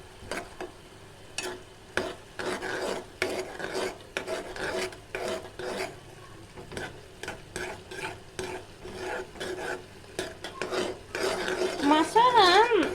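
Maggi noodles stirred and fried in a pan with a spatula, giving repeated scraping strokes and metallic clinks at close range over a low sizzle, busier toward the end.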